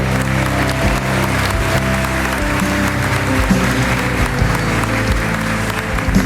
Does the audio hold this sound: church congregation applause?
yes